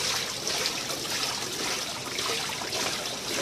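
A small pump pushes water through a DIY Halloween water feature, producing a steady, close trickling and splashing that runs continuously without pauses.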